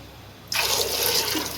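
Water poured suddenly into a pan of fried, ghee-glazed masala in a home kitchen, a loud steady rush after half a second of quiet that continues to the end.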